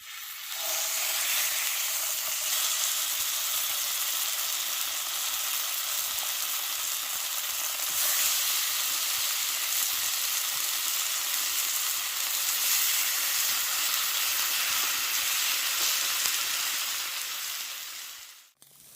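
Food sizzles and fries in a pan at a camp setup, a dense, steady hiss running for nearly twenty seconds before cutting off abruptly at the end.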